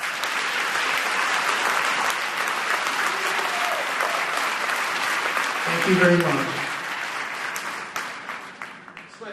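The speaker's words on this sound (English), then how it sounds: "A round of applause for you." An audience at an education forum breaks into sustained, loud applause that carries on for several seconds, with a voice speaking briefly over it before the clapping fades.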